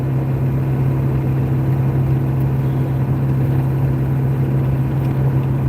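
Steady diesel rumble of a truck with a 7.3 Power Stroke engine on the road, a strong low drone that holds constant and loud throughout with no talking.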